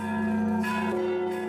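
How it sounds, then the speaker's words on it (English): Church bells of St. Michael's Golden-Domed Cathedral in Kyiv ringing, sustained metallic tones overlapping and humming with a fresh strike midway, fairly close and alone. "We ring the bells."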